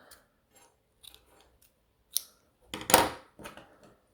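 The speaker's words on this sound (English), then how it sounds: "cut your yarn" Scissors snip through yarn after crocheting, a few faint handling clicks followed by one or two crisp close cuts and a softer snip.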